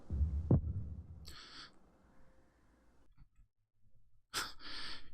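A heartbeat effect on the soundtrack of the 1976 film King Kong: a low, heavy throb early, then hushed, breathy bursts and near silence as the beat fades, with no talking.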